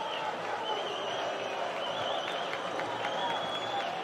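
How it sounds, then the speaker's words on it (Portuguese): São Paulo supporters celebrate in the stands at Estádio Nilton Santos during a 0-0 Libertadores 2024 match against Botafogo, a steady, dense roar of crowd noise with scattered clapping filling the distance throughout. "a torcida de São Paulo está aí comemorando"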